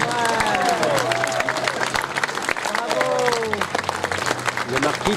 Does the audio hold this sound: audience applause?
yes